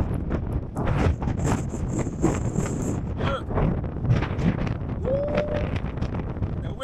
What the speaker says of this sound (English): Look. The wind is too much.